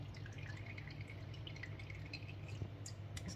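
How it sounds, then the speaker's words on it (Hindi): Whey drips from a small pressed ball of homemade cheese, made from about a litre of milk, with soft repeated drips and trickles over a steady low hum, fairly quiet and close. "अब इसको चमचे से ही दबा के तो इसमें इसका पानी इसका निकाल दिया।"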